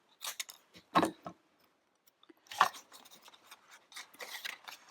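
Scissors cut through material, making a couple of crisp snips close by, separated by short pauses and soft rustling handling sounds.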